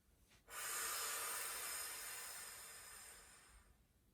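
A long, steady breath pushed out in one continuous airy rush during a pregnancy core exercise, close and fairly loud, starting abruptly and tapering off over about three seconds.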